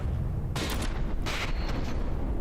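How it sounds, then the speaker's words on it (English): Mortar fire in From the Depths: two sharp, booming shots about a second apart, each with a bright crack and short rumbling tail over a steady low battle drone. "Mortars actually reached their mark here."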